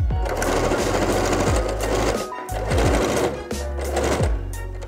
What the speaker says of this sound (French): on va venir piquer au point droit à 1 cm du bord